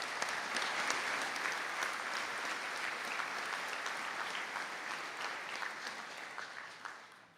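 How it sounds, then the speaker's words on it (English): A conferring ceremony audience gives a long, steady round of applause for engineering graduates, dense hall-filling clapping that tapers slightly toward the end. "I call on you to give them a round of applause."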